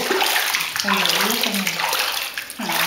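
A young child splashes and kicks in a swimming pool during a lesson, with continuous close water sloshing and lapping while an adult talks over it.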